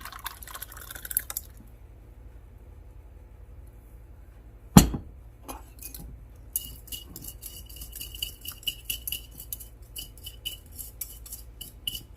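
Rice pudding mixture made from an 1863 recipe is poured into a small bread pan: one sharp knock, then soft drips and light clinks of a utensil against the pan, quiet and close.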